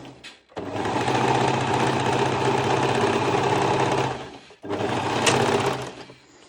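An overlocker serger stitches tester fabric for a swimsuit top, a loud, fast steady whir that runs for several seconds, stops briefly, then starts again.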